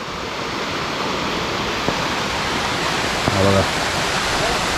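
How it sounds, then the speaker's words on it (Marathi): A waterfall beside a forest path at Gaimukh near Poladpur in the Sahyadri hills, heard as a steady, loud broadband rush of falling water throughout, with someone briefly speaking over it. "इथे एक मस्त वॉटरफॉल आहे बाजूला."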